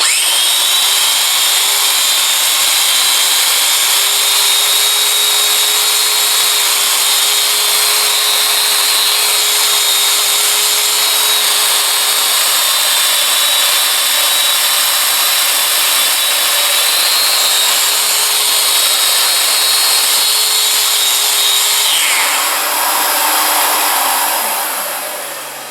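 Domino joiner plunge-cutting into wood, a loud steady motor whine held for over twenty seconds, then winding down at the end, with no talk.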